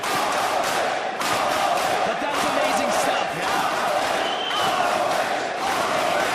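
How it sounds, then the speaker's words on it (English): Dense, steady roar of a large pro wrestling crowd on its feet in a Milwaukee arena, applauding and cheering continuously through the whole stretch while a commentator talks over it. "Standing ovation for pro wrestling here in Milwaukee."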